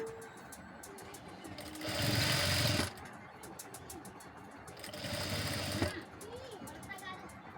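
Sewing machine stitching fabric for potli buttons, two close bursts of fast rattling stitching about a second each separated by a quiet pause, with faint background hum.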